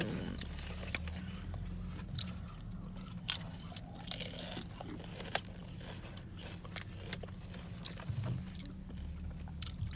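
Crunchy 7-Eleven store-brand potato chips, similar to Lay's, are bitten and chewed up close, with irregular crisp crunches over a low steady background hum.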